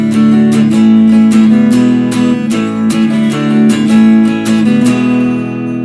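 A guitar strums a chord progression with a steady eighth-note rhythm, loud and close, the even down-up strokes moving between chords with no talking.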